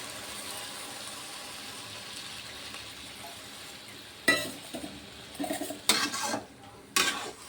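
Water poured into a pan of pumpkin greens cooking on the stove sets off a sudden hiss and loud sizzle. Several bursts of spattering and stirring follow, after a quiet, low frying hum.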